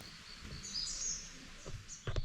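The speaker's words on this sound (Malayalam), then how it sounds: "പിന്നെ ത്രൂ ഔട്ട് പക്ഷികളുടെ ശബ്ദം ഇങ്ങനെ കേട്ടുകൊണ്ടിരിക്കുകയാണ്." Birds chirp and call in a misty morning forest in Wayanad. Short, bright tweets come at intervals over a quiet background, and a few sharper calls arrive near the end.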